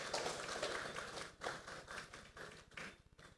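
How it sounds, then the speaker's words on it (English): Quiet, distant applause from a crowd at a sashing ceremony, a dense patter of claps rising and falling over a few seconds. "Join me in giving them a round of applause"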